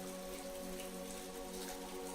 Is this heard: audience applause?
no